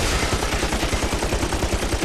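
A machine gun fires in Army of Two: The Devil's Cartel: loud, rapid automatic bursts in a steady, dense rhythm of close shots with no gaps.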